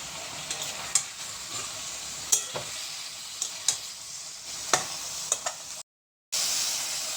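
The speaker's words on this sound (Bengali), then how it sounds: "দিয়ে আদা রসুন পেস্টটাকে ভালো করে মিক্স করে নেব।" Ginger-garlic paste frying in a pan for chicken makhani, with a soft steady sizzle and a few sharp scrapes and clacks of a spoon as it is stirred, close and alone.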